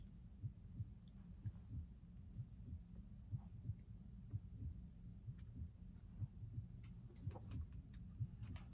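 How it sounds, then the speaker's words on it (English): A soft, low heartbeat-like thump pulses steadily and faintly on a 1968 pop psych record by Bit 'A Sweet, over a low droning hum. "Sort of a heartbeat sound going on there."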